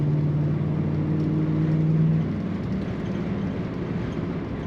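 A 1964 Oldsmobile Jetstar 88 sedan accelerates, its engine a steady, moderately loud hum with a sustained tone that fades after a couple of seconds into a smoother cruising whir.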